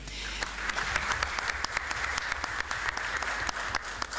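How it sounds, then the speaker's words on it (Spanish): A crowd claps at the opening of an international teachers' congress, a steady wash of applause with a few sharper individual claps, moderately loud and continuous throughout. "Fuerte el aplauso también"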